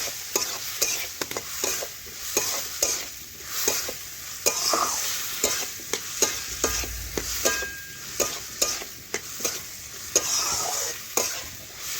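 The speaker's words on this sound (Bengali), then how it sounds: "আমি আবারও 1 থেকে 2 মিনিট নাড়াচাড়া করে একটু কষে নিচ্ছি" Ridge gourd, potato and small fish are stirred and fried in a pan. A continuous sizzle runs under repeated close scraping strokes of a spoon against the pan, with no voices.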